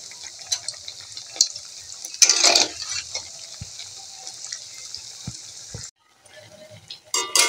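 Pointed gourd coated in gram flour batter fries in a small amount of oil, a continuous soft sizzle with occasional louder bursts and clinks as it is stirred, broken by a brief silence.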